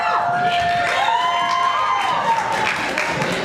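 An audience at a faculty follies stage show bursts into loud cheering, whoops and applause, a thick sustained roar close by that swells and stays strong for the whole stretch with no break.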